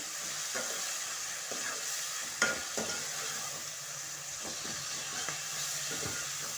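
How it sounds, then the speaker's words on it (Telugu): Onions soften while being stirred and fried into a curry, a low steady sizzle under repeated scraping and knocking of a spoon against the pan, fairly quiet and close. "ఉల్లిగడ్డ అనేది మెత్తబడేదాకా ఇలా కలిపేసుకోవాలి"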